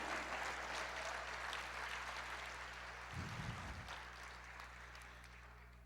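Steady applause from a large church audience fills the whole stretch, a dense wash of clapping that fades slightly toward the end.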